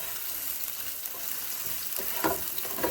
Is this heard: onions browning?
yes